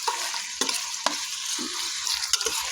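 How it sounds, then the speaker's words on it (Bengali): Onions frying in a pan for tehari in a rice cooker, a steady hiss of sizzling oil broken by several sharp scrape-and-stir clatters, close and alone with no voices. "আমি একটু সুন্দর করে পেঁয়াজটা ভেজে নিব।"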